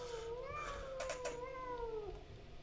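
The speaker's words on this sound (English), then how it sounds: "I hear a kitty cat." A cat gives one drawn-out meow that rises and falls, heard close and clear over a low hum, with a brief clatter partway through.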